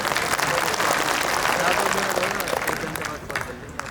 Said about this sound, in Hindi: एक बार इस खूंखार भाई के लिए तालियां बजा दी।